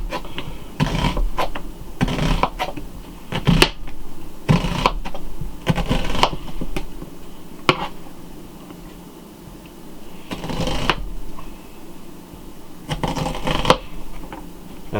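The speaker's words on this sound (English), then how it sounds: "I like my onions long and stringy, so I'm just going to cut it like this" A knife slices an onion into long strips on a cutting board, producing a series of crisp, irregular chopping taps spread across the clip, close and fairly soft with short pauses between cuts.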